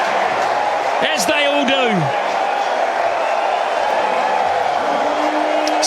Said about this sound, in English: Standing ovation from the crowd here at McLean Park.